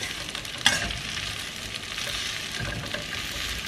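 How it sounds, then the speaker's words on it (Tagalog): Singaporean noodles with egg and curry paste frying in a pan, stirred with a sharp scrape of the utensil early on and then a steady sizzle with soft shuffling under it, no talk. "Hirap haluan."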